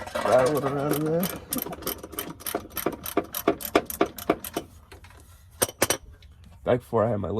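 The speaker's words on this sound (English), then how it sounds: "And that's just my cat rattling around in there." A cat rattling around inside a Jeep makes clattering, clinking knocks in an uneven burst of taps, fairly quiet and close, with a voice speaking briefly at the start and again near the end.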